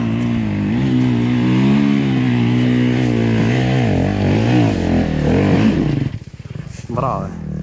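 A motorcycle engine runs loud and close on a dark mountain descent through the Balkan range from Buzludzha toward Tryavna, its steady drone shifting in pitch with throttle before dropping away near the end.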